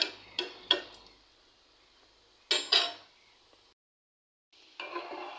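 Sweets gently stirred as they fry in a pan: a few sharp utensil clinks and scrapes against the metal, a pause of near silence, then a soft, steady hiss near the end.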